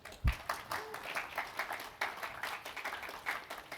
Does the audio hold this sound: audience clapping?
yes